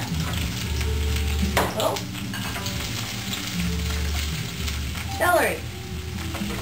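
Spareribs stir-fried with pepper, celery and green onion crackle in a loud, continuous sizzle close up, with a couple of scraping stirs and a person speaking briefly over it.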